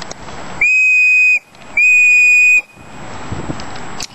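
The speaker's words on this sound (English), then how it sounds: "Pretty darn loud, has a real high-pitched noise, so you can pretty much hear it over some distance." The built-in whistle on a Tool Logic Survival 2 survival tool gives two loud, shrill, high-pitched blasts, each under a second long, separated by a brief pause, close and clear.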